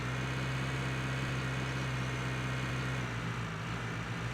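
A tractor engine in a farming video game runs steadily, a constant low droning hum with a broad noisy wash above it, loud and continuous without talk.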